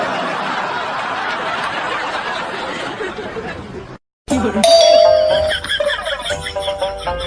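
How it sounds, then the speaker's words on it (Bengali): A doorbell chime sounds in a Bangladeshi comedy sketch: chattering voices, a brief silence, then a clear ringing tone with bright overtones. "আবার কি কলিং বেল দেয়?"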